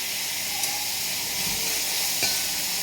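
Onions salted and sautéing in a pan for a Kerala potato stir-fry give off a continuous, even sizzle. Faint ticks and a soft spoon clink sound now and then.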